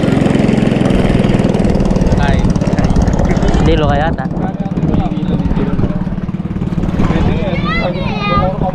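A motorcycle taxi engine runs steadily close by, its low drone continuous throughout, while people talk over it.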